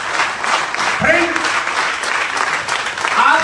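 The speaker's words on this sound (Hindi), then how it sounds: "खड़े होकर के जोरदार तालियां बजाएं।" An audience applauds loudly and steadily throughout, with a voice talking over the clapping.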